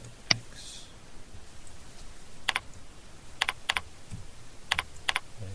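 Crisp computer keyboard keystrokes: a single tap, then short clustered bursts of two or three keys in an uneven rhythm, close and clear over a quiet room background with no talk.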